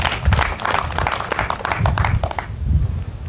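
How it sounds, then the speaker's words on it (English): An audience applauds at a retirement ceremony for three Ugandan UPDF army officers. The clapping is dense and continuous, fairly loud and close, with crowd murmur mixed in and a slight easing toward the end. "they deserve a hand clap also."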